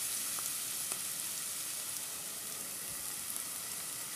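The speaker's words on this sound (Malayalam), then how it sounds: "എണ്ണ ഒഴിച്ചതിന് ശേഷം നന്നായിട്ട് ഫ്രൈ ചെയ്തെടുക്കുക" Chopped onion and green chili fry in hot oil for a moringa leaf cutlet, giving a steady, close sizzle with a few faint pops and no voices.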